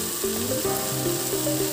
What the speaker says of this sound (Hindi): सो मसाला हमारा ऑलमोस्ट भुनने वाला है